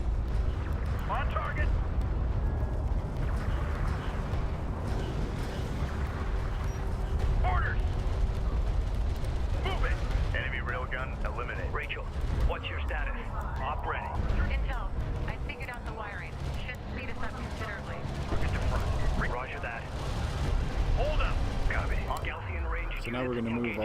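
Gunfire and explosions pound a command carrier in Homeworld: Deserts of Kharak, a dense, continuous battle din of blasts and shots running throughout, with game voices talking over it.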